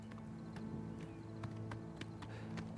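Horse hooves clip-clop at a steady trot in Oblivion Remastered, a run of sharp, evenly spaced hoofbeats heard clearly over a low, humming game background with no talking.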